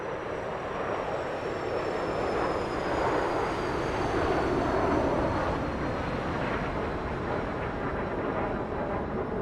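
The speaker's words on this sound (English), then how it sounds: "I think you'll be hearing the jet take off in a minute. It's a refueling jet." A refueling tanker jet takes off in a flight simulator game, a steady, broad jet engine roar holding loud and unbroken throughout, with a faint high whine above it and no voices.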